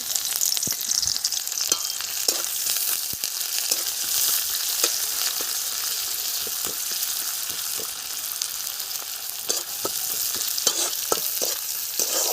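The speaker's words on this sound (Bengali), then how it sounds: "লাল শাক ভেজে নেব, তার জন্য আমি কড়াই তেল দিয়ে দিলাম।" Red amaranth greens sizzle steadily in hot oil in a kadai with garlic and onion, punctuated by frequent scraping and clinking of a spoon stirring in the pan, close up.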